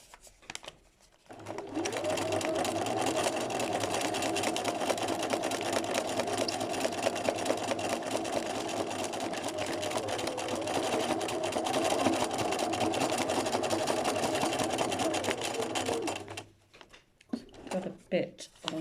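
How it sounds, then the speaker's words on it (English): A sewing machine running steadily for about fifteen seconds while free stitching on fabric, a close, continuous whirring hum that starts and stops abruptly, followed by a few light handling clicks. "So I'm just doing really some crazy stitching here."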